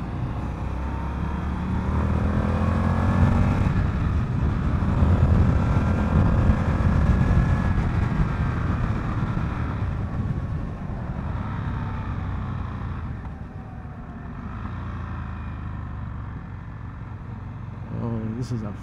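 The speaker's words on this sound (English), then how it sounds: "This is a fast motorcycle." A 2020 Indian FTR 1200 Rally motorcycle on a demo-day test ride gives a rising, surging engine roar mixed with wind rush, heard from the rider's position with someone talking over it.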